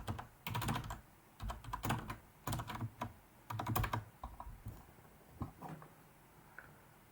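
Close, quiet typing on a computer keyboard, with bursts of rapid key clicks separated by short pauses that thin out into a few scattered taps.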